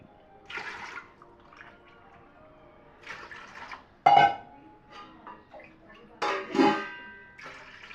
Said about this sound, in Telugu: నేను 4 గ్లాసులకి 7 గ్లాసులు వాటర్ తీసుకుంటున్నాను